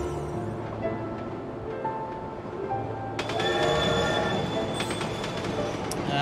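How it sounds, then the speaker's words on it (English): A magical train running without a conductor in Kingdom Hearts II, steady rumbling ride with wheel noise, growing louder and brighter with squealing tones partway through. "It's a magical train."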